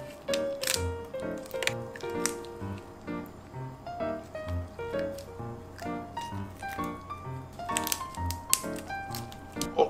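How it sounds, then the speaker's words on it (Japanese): Scissors snip through freshly caught seafood during preparation, giving a run of crisp, close cutting clicks and crunches at an uneven rhythm, with soft handling squishes between the snips and no talking. "僕はハサミでやりますね。"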